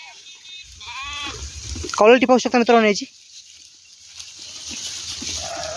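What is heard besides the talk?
Renapuri and local Gavran crossbred sheep bleating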